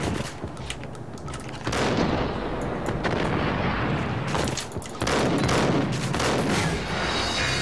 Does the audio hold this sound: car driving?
no